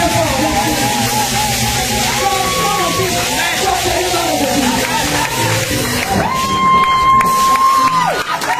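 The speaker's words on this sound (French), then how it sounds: "applaudissez pour Jésus" A church congregation at a Sunday worship service shouts and cheers in a loud, close burst, with voices and sustained whooping tones layered over a continuous crowd din.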